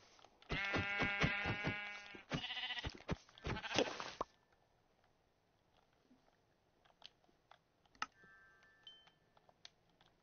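A sheep bleats several times in close, loud, wavering cries packed into the first few seconds, then fades to quiet background with scattered faint clicks and small noises.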